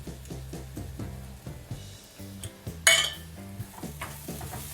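A broccoli and egg mix with pepper powder and curry leaves is stirred in a pan over a soft sizzle, with repeated clinks and scrapes of a spoon against metal and one sharper clatter partway through.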